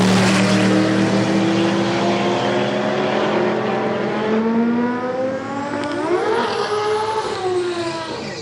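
A Toyota Corona drag racing car revs loud and close with a sustained, rising engine whine through the gears, its pitch climbing steadily before settling.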